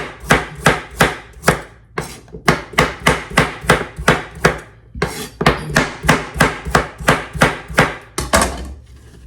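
Beets sliced with a knife on a cutting board, a steady run of sharp, close chopping knocks in quick rhythm with a short pause partway, no talk.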